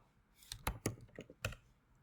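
A few quiet keystrokes tap out a command on a computer keyboard, five or six crisp clicks in a short irregular run, close and alone.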